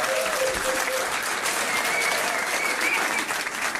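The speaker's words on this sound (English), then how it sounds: "Give him a round of applause." Pub trivia quiz audience at the Isle of Ely applauding a team, a dense, steady wash of clapping from many hands that holds at an even level for several seconds.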